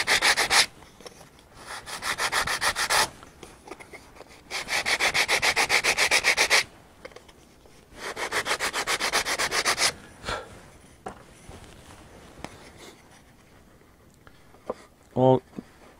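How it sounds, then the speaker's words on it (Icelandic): Sandpaper rubbing a wooden part for a Kwik-fli Mk III model airplane, in three long, loud rasping bursts of steady back-and-forth strokes, followed by quieter handling noises and some speech. "Aðeins að pússa þetta pínu."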